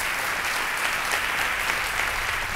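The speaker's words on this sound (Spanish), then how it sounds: "Un fuerte aplauso" An audience at the 2011 AMMI awards of the Madrid mediators' association applauds a prize winner, with dense, even clapping filling the room throughout.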